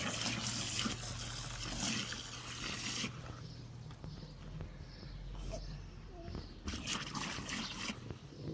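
Warm water runs from a tap into a container, a steady rushing pour that changes tone partway through, with brief voices nearby.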